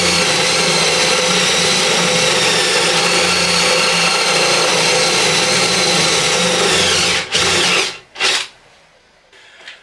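A drill bores a short way into a small workpiece for a homemade standing stool, its steady whine running loud and continuous for about seven seconds before cutting out, briefly restarting, then stopping.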